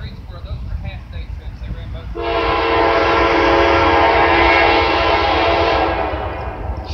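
Two train engines passing in the Trainz video game, with a sustained, loud, multi-tone train horn blast that holds for several seconds over rumbling rail noise and fades near the end; a voice talks before the horn begins.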